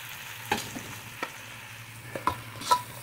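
Ripe tomatoes frying in oil in a pan, a soft steady sizzle broken by a few spoon stirs and clinks, with no talking.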